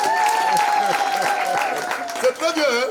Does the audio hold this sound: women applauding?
yes